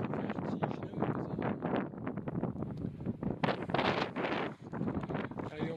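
Strong wind gusts buffet the microphone on a steep mountain trail on Réunion, a continuous roaring rumble that surges and eases in waves, with no voices heard.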